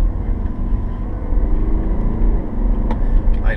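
A 2018 BMW X3 30d diesel engine hums and builds steadily under acceleration, a continuous close rumble with a brief mechanical click near the end.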